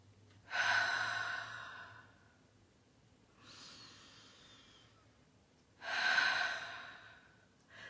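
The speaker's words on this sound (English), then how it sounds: "Let's take a breath together." Slow, deep breaths taken during a guided relaxation, two long audible inhales or exhales several seconds apart with a fainter one between, close and soft with no talking.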